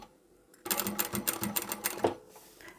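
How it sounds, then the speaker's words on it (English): A sewing machine back stitches through fabric for a small folding card wallet, a quick rapid mechanical chatter of needle strokes lasting under two seconds, close and clear with quiet surroundings. "I'm also going to back stitch here just to reinforce that."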